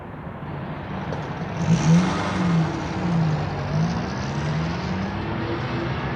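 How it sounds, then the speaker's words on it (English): The leader's car drives off with its engine revving, a wavering motor note that rises and falls over about six seconds, fairly close and with no voices. "There goes the leader's car."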